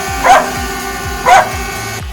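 Dogs bark at a flying drone, with two loud close barks about a second apart over a steady humming background.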